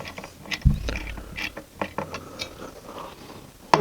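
A Phillips screwdriver gently tightens screws on a Thermaltake Core P3 PC case during a build, making sparse metallic ticks and ratcheting clicks with a low thump near the start and a sharper knock at the end.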